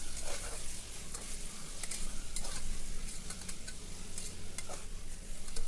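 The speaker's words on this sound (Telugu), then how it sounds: "ఒక మూడు నిమిషాలు బాగా వేపుకోవాలి కీమాని" Mutton keema frying in oil, a steady close sizzle with periodic stirring scrapes and light clatter of a spoon against the pan, with no talking.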